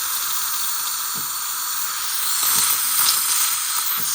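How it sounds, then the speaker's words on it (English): A continuous steam hiss from the wand of a Quickmill thermoblock espresso machine, loud and close, swelling slightly partway through with faint clicks underneath. "That's the steam, that's working brilliantly."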